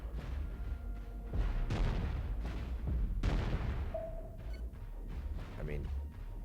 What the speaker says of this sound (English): my cannon is pounding him